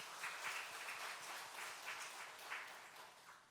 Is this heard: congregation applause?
yes